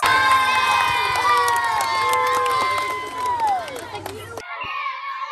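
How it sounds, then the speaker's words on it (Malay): Spectators cheer loudly at a zone volleyball tournament on a volleyball court, with excited shouts and high-pitched children's voices rising and falling over a busy crowd roar before an abrupt cut. "Sorakan daripada para penonton juga semakin rancak."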